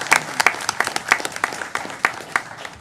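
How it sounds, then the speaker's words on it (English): Scattered clapping from a modest group at a city council meeting, uneven and lively, with individual claps standing out sharply for a few seconds. "deserves a round of applause"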